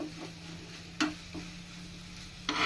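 A spoon stirs cardamom powder into a lachha semai burfi mixture in a pan, with quiet scraping and a few soft clinks spaced over a faint steady hum.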